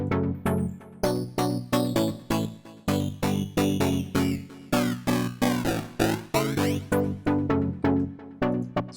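A house-style pluck synth patch for UK garage, made in Serum with lo-fi downsampling distortion, plays a rhythmic pattern of short, gritty, bright notes, repeating steadily with sweeping resonant tones in the middle.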